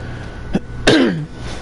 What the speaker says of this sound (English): my coughing stems from a sickness